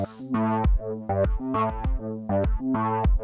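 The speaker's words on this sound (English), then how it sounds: "every time the kick plays here, it's being compressed and it's ducking the sound of the bass" Punchy electronic kick drum from a Kong drum device thumping in a steady pulse while a sidechain-compressed synth bass line ducks and swells around each hit, playing alone.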